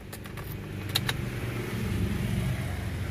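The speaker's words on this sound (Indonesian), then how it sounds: "Terus sekarang tak hidupin mesinnya" A 2013 Toyota Avanza Veloz automatic starts up, a few clicks and a key jingle giving way to a low, steady idle hum close by.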